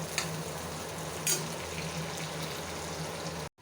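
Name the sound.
onion frying in oil in a pan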